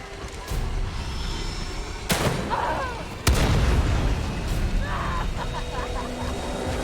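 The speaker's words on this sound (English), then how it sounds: "Now I just need to shoot it with a gun." Gunshots in the horror game The Evil Within 2: two sharp, loud cracks a second apart, each followed by a rumbling tail over continuous background game ambience.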